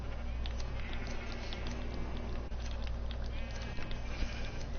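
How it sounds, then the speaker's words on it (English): Sheep bleating in Minecraft, short wavering bleats repeated over a dense, steady game background, fairly quiet. "Back, you purple bitch sheep."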